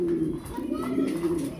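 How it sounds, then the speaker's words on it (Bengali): A female pigeon cooing close by, a low continuous throaty coo rolling on through the short moment with faint background noise. "এটা খুবই সুন্দর একটা মাদি কবুতর"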